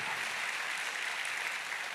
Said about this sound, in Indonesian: Kasih tepuk tangan dulu yang paling meriah buat Tuhan.